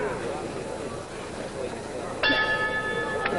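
A boxing ring bell from a televised heavyweight bout, Leotis Martin versus Sonny Liston, strikes once to open round three, a bright sustained ring rising over steady crowd murmur and arena noise.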